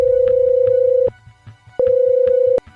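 A phone rings for an incoming call in two loud, sustained electronic tones with a short pause between them, sounding close and alone.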